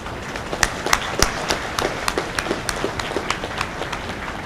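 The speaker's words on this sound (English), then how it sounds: "Round of applause." Scattered applause from an audience at a banquet, sparse individual claps with distinct sharp hits standing out over a softer crowd patter, fairly close and irregular.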